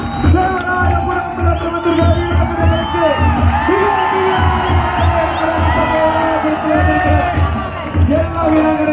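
A large crowd at the Gramotsavam village games festival at the Isha Yoga Center in Coimbatore cheers and whoops loudly and continuously for an arriving team, with shouting voices mixed into the roar.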